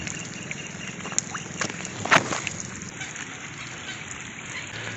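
Rain falls outdoors by the water during a fishing outing with frog bait: a steady, even hiss with a brief louder splash about midway.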